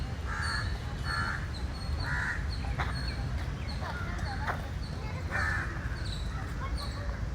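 Crows caw repeatedly from an old tree in a forest, giving short harsh calls in loose bursts at moderate distance over a low steady background rumble.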